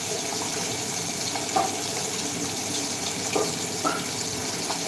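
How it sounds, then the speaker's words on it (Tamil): Water is poured into a dried-up cooking pot while it is scrubbed by hand: a continuous hiss of running water with a few soft scrubbing knocks, fairly close and without talk. "அவங்களுடைய பாத்திரம் வந்து கொஞ்சம் ட்ரையாக இருந்துச்சு அதனால் தண்ணி ஊற்றி தேய்ச்சிட்ருக்காங்க"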